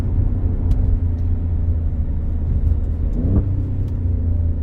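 Alfa Romeo Stelvio Quadrifoglio with a 510-horsepower twin-turbo V6 rumbling steadily at low revs from inside the cabin, a brief rev flare near the end, loud throughout with no talk.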